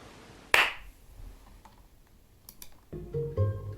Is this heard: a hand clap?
yes